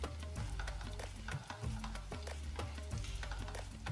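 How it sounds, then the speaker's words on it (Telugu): Coconut pieces frying in a pan for chakkar pongali, a continuous low sizzle with light stirring clatters recurring at an even pace, fairly faint. "నెక్స్ట్ మనము కొబ్బరి ముక్కలు వేయించేసుకుందాం"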